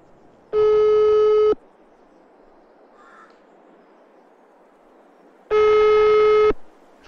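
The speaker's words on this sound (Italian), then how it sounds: "Squilla, ma non risponde nessuno." In Farming Simulator 22, a phone call rings out unanswered: two loud, steady one-second electronic tones separated by a long pause, with faint background hiss between them.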